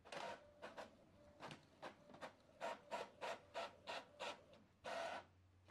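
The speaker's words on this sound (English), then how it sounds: "Now, it's printing." An Epson ET-3850 inkjet printer runs a test page, giving a series of close, rhythmic mechanical rasps and whirs as the print head shuttles back and forth, ending in a longer feed burst.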